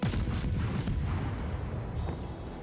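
A destroyer fires a full gun salvo in World of Warships, rolling booms and cracks overlapping as several shells go off in quick succession, then tailing into a rumbling decay without speech.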